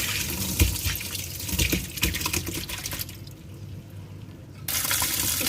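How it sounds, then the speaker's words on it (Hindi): Water poured off soaked mutton liver splashes and trickles steadily, fades to near quiet, then gushes again at the end. The sound is close and there is no talking. "अब जो कलेजी है इसका पानी मैं ड्रेन आउट कर दूँगी।"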